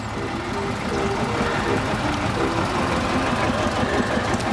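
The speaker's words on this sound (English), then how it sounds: "single cylinder, 500cc diesel engine" A single-cylinder 500cc diesel engine on a Field Marshall tractor runs steadily with a low, even chugging drone, close by and continuous.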